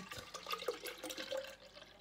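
About 250 ml of liquid is poured into a blender, giving a soft, steady splashing trickle for a couple of seconds, faint and close.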